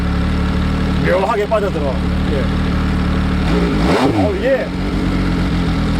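A three-cylinder motorcycle engine, from a naked roadster such as the MV Agusta Dragster 800, idles with a slightly gravelly mechanical rumble that holds steady throughout, with brief Korean speech over it.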